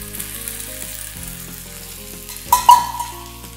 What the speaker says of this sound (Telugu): ఇవి కూడా బాగా థిక్గా అయిపోయేదాకా వేగాలి కదా